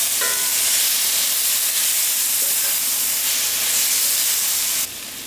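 Vegetables stirred in a frying pan for Thai coconut curry noodles sizzle in a loud, steady hiss, with faint scraping from the stirring, until the sizzle drops sharply near the end.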